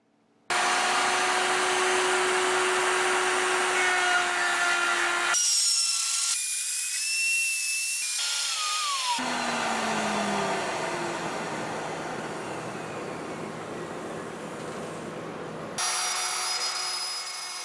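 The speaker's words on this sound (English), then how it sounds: "I used this shop-made template and a router equipped with a collar to make several consistent holes" A router fitted with a guide collar cuts holes in wood around a shop-made template, a loud steady whine with abrupt stops and restarts across several cuts, pitch sagging slightly under load, no talking.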